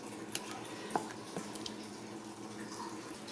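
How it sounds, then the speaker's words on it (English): Hot curds and whey from raw cow's milk for Amish-style Muenster cheese pour into a mold, making soft splashing and sloshing water sounds with a few sharp drips and clinks, fairly close, with no voices. "And then I'm pouring it into my mold."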